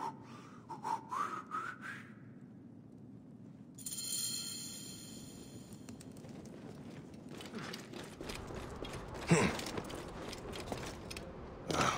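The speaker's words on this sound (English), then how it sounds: "Some people just should not whistle" A character whistles in Assassin's Creed Origins with a few thin, rising whistled notes near the start, later joined by a brief higher whistle. They sit over soft clicking, ratcheting game sounds and a low ambient bed, with no speech.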